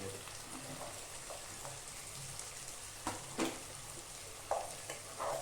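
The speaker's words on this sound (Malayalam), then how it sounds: "ചെറുതായിട്ടൊന്ന് ഇളക്കുക" Chicken and carrot being stirred in a pan, with a soft steady sizzle and a few scattered scraping and clinking spoon strokes, close up and fairly quiet, no talking.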